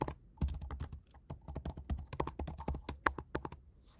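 Quiet, close computer keyboard typing while entering R code, a quick irregular run of crisp key clicks with brief pauses and no voices.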